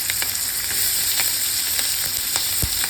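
Capsicum and onion frying in a pan for paneer chilli: a steady, close sizzle with light crackles and a few stirring knocks, no voices.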